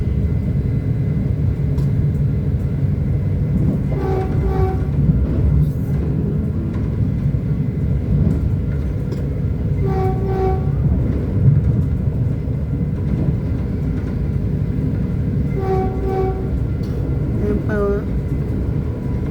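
A passenger train runs toward Burlingame on the line to San Jose, heard from inside the rear car as a continuous low rumble with recurring tonal chimes or squeals. A person speaks over it at times.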